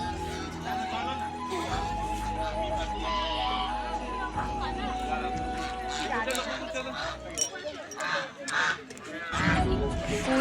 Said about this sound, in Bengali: রাজহাঁস এগুলো।